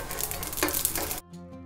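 Mustard seeds, urad dal and cumin sizzling in hot oil, a bright crackling hiss close by that cuts off abruptly into a quieter hum.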